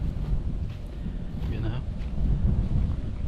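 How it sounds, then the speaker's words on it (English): Wind gusting across a microphone outside by a turkey hunting field, a steady low rumbling buffet that holds throughout at moderate loudness. "Got some wind out here today"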